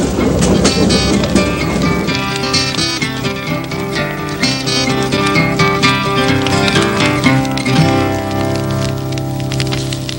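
A train on the railway line across Newfoundland, with a continuous loud rumble and rhythmic rattling of wheels over the tracks for about ten seconds.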